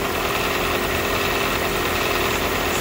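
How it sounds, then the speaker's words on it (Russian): A Chevrolet Sonic engine with a ticking fault and a P0366 code, heard running: a steady, close idle hum with a fast, faint ticking and knocking texture throughout. "вот такие вот у нас звуки издает двигатель"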